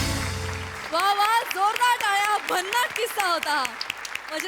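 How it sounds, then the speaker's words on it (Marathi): Applause breaks out from a studio audience at a Marathi comedy show, a dense patter of clapping with loud, sustained cheering voices riding over it for several seconds. "वा जोरदार टाळ्या"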